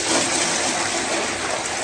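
Water rushes and splashes steadily, a close, continuous pour with no talking.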